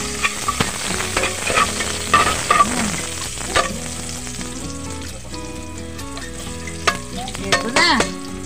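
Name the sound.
sautéing adobo with chili, garlic and ginger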